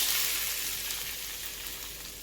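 Hot oil tempering with cumin and asafoetida is poured over a raw turmeric chutney, giving a soft, steady sizzling hiss that gradually fades over a couple of seconds.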